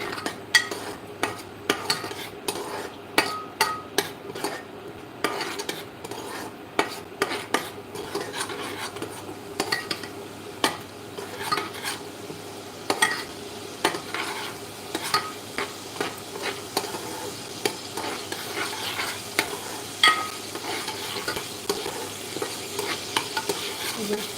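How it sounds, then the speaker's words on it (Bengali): Vegetables including carrot and potato stirred with ghee in a pan for a vegetarian meal, a spatula scraping and clinking against the metal repeatedly over a soft continuous sizzle, close and without talk. "এবারে এটাকে একটুখানি নেড়ে নেবো"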